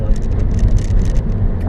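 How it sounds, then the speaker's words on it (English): Loud, rough low rumble of tires rolling over a coarse road surface, steady and close, heard from inside a moving 2013 Mini Cooper S. "sorry for the road noise"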